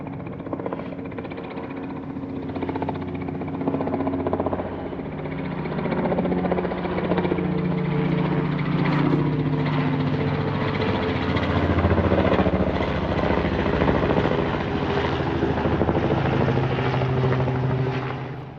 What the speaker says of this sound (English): we've got a helicopter doing a fly past.